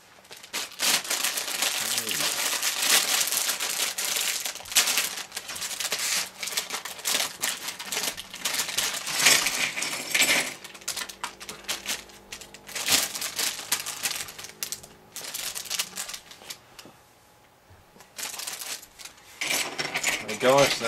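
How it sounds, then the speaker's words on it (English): A plastic LEGO polybag for the 250 GT Berlinetta promotional set is torn open and its small pieces are poured out, making continuous crinkling and rattling clatter throughout, with a few pauses. "let's get this polybag unbagged"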